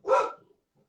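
A single short bark from a house dog angry at dogs passing in the street, fairly faint and over in under half a second, with no talk around it.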